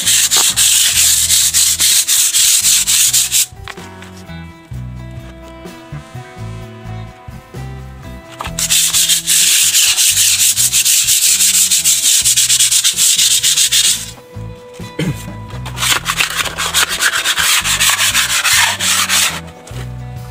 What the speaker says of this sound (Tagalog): huwag nyong kaligtan lihain ng number 100 bago nyo batakan ng buo